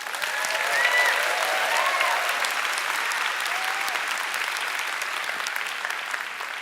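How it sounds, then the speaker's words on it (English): Sustained applause from a large audience at a college commencement ceremony, a dense steady clapping that swells early and then holds evenly, heard alone without speech. "with a round of applause."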